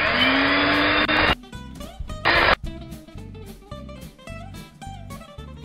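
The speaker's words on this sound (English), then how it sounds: "put 200 grams of your softened butter with 200 grams of sugar, and we're going to whisk those up till they're light and creamy" An electric whisk beating softened butter and sugar till creamy, two loud whirring bursts near the start, then music carries on alone.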